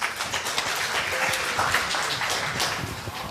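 Audience applause at a hospital IT conference session on RPA work automation, a steady broad wash of clapping holding evenly for a few seconds with no voices over it.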